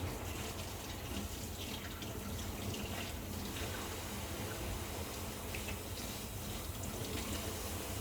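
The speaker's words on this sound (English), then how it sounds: "Wash my hands quickly before handling my bread." Tap water runs steadily into a kitchen sink while hands are washed during eggy bread preparation, a continuous close splashing hiss with no talking.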